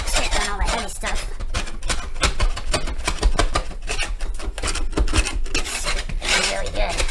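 Sanding and scraping down a drywall patch, a rapid rasping stroke repeated continuously at close range, loud and coarse, with no clear talking over it.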